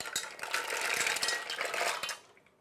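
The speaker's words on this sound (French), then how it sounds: "Je vais venir verser mes moules dessus" Fresh mussels tumble into a cocotte pot over a marinière base, a dense, steady clatter of shells knocking together for about two seconds before stopping abruptly.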